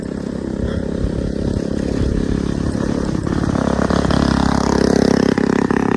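A motorcycle rides alongside on a mountain road, its engine a steady, fairly close drone that swells slightly as it revs, with no talk.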